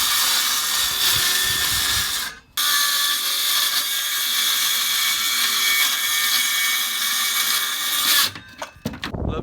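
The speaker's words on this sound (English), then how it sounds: "just drill some holes in this" A power drill bores holes into material while fitting out a self-built home on wheels, running loud and steady for about six seconds, pausing briefly, then resuming before stopping and giving way to a few clunks.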